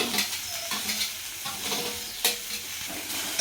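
Chopped taro stems fry in a pan for a Kerala thoran while a spoon stirs them, giving soft crackling sizzle punctuated by several scraping stirs, fairly quiet and close.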